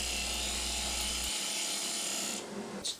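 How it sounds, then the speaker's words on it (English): Close wood-turning noise on a lathe, a steady hiss and scrape of a spindle gouge hollowing spinning wood over a low motor hum that cuts out partway through. "So we start the hollowing process with a spindle gouge"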